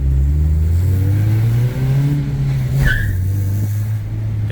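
A 1999 Honda CR-V with a manual 5-speed gearbox drives along, its engine droning loud and close as it rises in pitch, then drops briefly during a gear change before pulling again.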